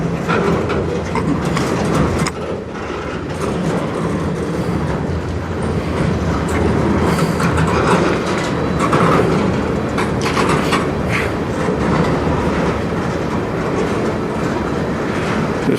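A CN freight train rolls past close by at night in Sarnia, Ontario, a loud continuous rumble with rhythmic clacking of wheels over rail joints.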